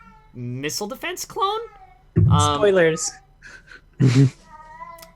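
A cat meows several times in rising, wavering cries alongside a man's speech, with a longer plaintive meow near the end.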